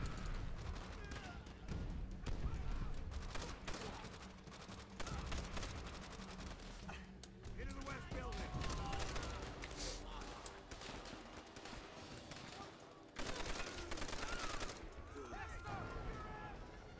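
Call of Duty: World at War gameplay with dense bursts of rifle and machine-gun fire and explosions filling a loud battlefield, while a player talks over the constant din.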